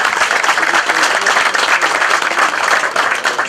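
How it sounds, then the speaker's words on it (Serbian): Sustained applause from a gathered crowd at the consecration of All Saints church in Obrtići, a dense steady wash of many hands clapping at even loudness throughout, with no talk over it. "I još jedan aplauz za gospodina Hršuma."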